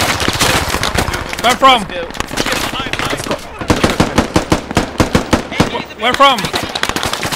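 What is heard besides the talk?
gunfire in the video game Squad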